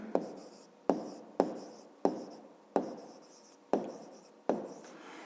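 A pen writes an answer by hand on paper during a fifth-grade maths exercise, six sharp scratchy strokes in a loose rhythm, each starting with a tap and fading, close and alone.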